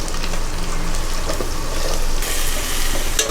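Onion and carrot sautéing with ginger and garlic in a pan over high flame for baked chicken pasta: a steady, close broadband sizzle with a few stirring scrapes, continuous throughout without talk.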